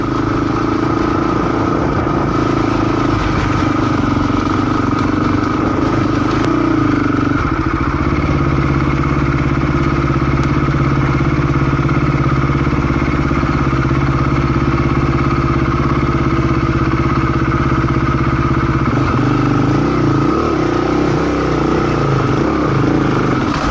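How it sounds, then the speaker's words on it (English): A Beta RR 430 motorcycle rides through New Zealand bush, its engine droning loud and continuous throughout with shifting revs and a steady mechanical rumble, heard alone without talk. "enjoy a bit of a jaunt through some fantastic Kiwi bush on the Beta RR 430"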